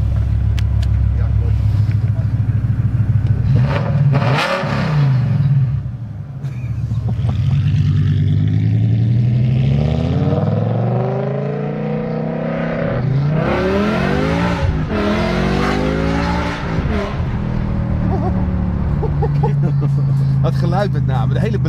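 A BMW with an automatic gearbox accelerates hard in M mode, its engine note climbing and dropping through repeated gear changes, loud and close from inside the car, with people talking over it.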